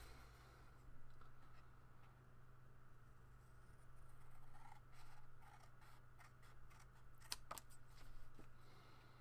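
Scissors cut through craft card by hand, giving faint, rustly snips and scrapes over a steady low hum, with a couple of sharper cuts later on.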